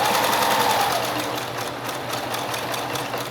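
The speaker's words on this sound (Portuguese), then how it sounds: "Vou devagar com a máquina para ajeitar as bordas aqui dos tecidos" A sewing machine runs slowly, stitching along the fabric edges of a small toiletry pouch, giving a steady close whirring hum that stays even for a few seconds with no talk.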